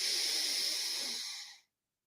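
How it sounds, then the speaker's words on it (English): A deep breath drawn through the nose during recovery breathwork training for mountain athletes, a single close, airy, hissing rush that holds steady and then tapers off into silence. "Let's take a couple of deep breaths to begin. In and out through the nose"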